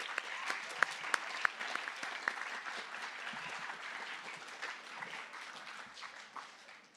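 Applause from an audience at a junior high school academic awards ceremony, a soft, distant, evenly spread clapping that slowly fades, with a few sharper claps standing out early on.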